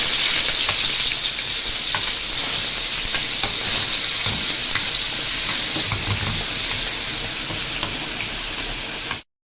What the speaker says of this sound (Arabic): على العين التانية بقى حطيت طاسة فيها معلقة سمنة كبيرة، وهحط فيها بصلاية مبشورة